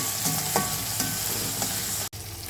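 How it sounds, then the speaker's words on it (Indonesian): Chicken sautés in a pan with a loud, continuous close sizzle, broken by occasional stirring scrapes and one brief dropout near the end. "Kita tumis dulu sampai ayamnya matang."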